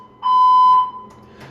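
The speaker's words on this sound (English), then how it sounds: "2021, there were 39 fire alarms in this building." A building fire alarm gives one loud, sharp electronic beep lasting about half a second, close and alone, followed by faint room noise.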